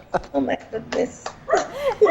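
A dog named Jenny gives several short, sharp yips and barks close by, interleaved with people speaking.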